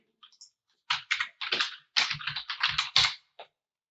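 Quick bursts of keystrokes on a computer keyboard as a search is typed, close and crisp, in short irregular clusters separated by brief pauses in an otherwise silent room.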